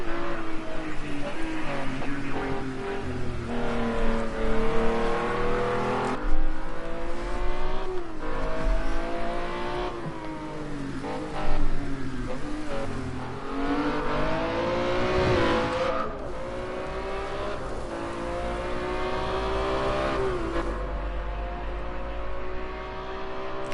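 A race car laps the Long Beach street circuit in a racing game, its engine droning and rising through repeated gear changes with rapid pitch sweeps and brief lifts, loud and continuous throughout with no talk.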